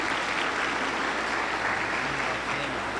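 A Pentecostal church congregation claps steadily and continuously at a healing and miracles service, a dense, even wash of applause that holds throughout with a faint murmur of voices beneath.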